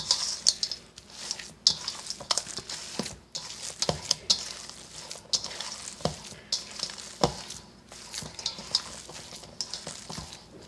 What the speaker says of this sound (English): You want to mix it around until all of the ingredients are equally incorporated into your